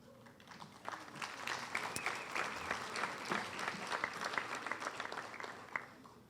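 A school assembly audience applauds the senior class officers with sustained, moderately distant clapping from many hands, with a few sharper claps standing out.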